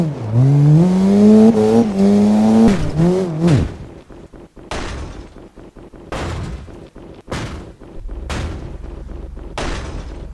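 A racing video game car drifts with a loud, rising engine whine and tire squeal, then the engine cuts out and a string of sharp crashing bangs follows at irregular intervals, with nobody speaking.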